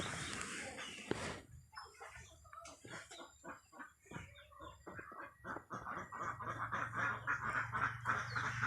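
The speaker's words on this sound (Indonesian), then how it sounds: "Oh, tuh bebek ya." A flock of ducks at a livestock farm quacks in dense, rapid bursts, close and loud, with overlapping calls that keep going throughout.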